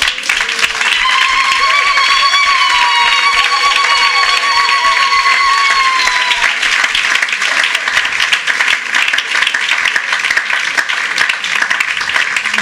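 A church congregation claps and cheers loudly to acclaim the Lord, with dense, continuous applause and raised voices or ululating tones at the start that fade after a few seconds, leaving the clapping alone.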